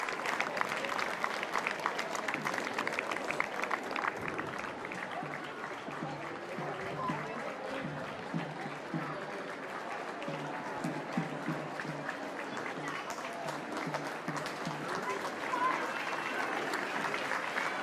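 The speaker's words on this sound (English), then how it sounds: "Great to hear the crowd in Sydney getting around Sakani, her teammates getting around her as well." A stadium crowd at a Sydney FC v Brisbane Roar women's football match gives a broad, steady roar of cheering and applause, with a commentator talking over it throughout.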